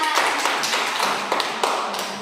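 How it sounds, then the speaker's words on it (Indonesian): A classroom applauds during an Indonesian language lesson, with dense, steady clapping from many hands filling the room close by for a couple of seconds. "Tepuk tangan dulu untuk kita semua"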